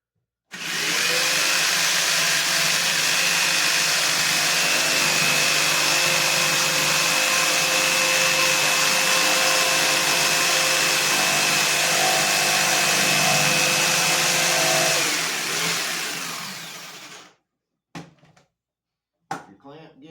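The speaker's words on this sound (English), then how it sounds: "Take your jigsaw and try to follow along your line with the mark on your jigsaw frame there." A handheld jigsaw cuts along a marked line in wood for a beginner toolbox project. The loud, steady buzz runs for about sixteen seconds, then stops, followed by a few brief clatters.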